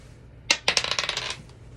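Dice rolled for a tabletop game clatter and bounce into a drawer, a sharp first impact followed by a quick run of rattling hits that fade out within about a second, close and alone.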